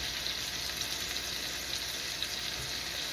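Pork chops browning in a pan over medium-high heat give a steady, continuous sizzle and crackle, loud and unbroken throughout with no voices.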